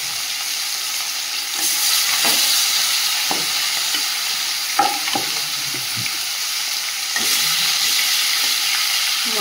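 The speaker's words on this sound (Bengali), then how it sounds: "মাছগুলো ভেজে নেব।" Fish frying in a pan, a steady loud sizzle with occasional stirring scrapes and clinks.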